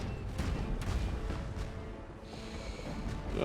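Ship cannons fire in The Legend of Pirates Online, a pirate naval combat game, giving a dense run of low booming blasts over a steady rumbling game soundscape, fairly loud and continuous without clear separation between shots.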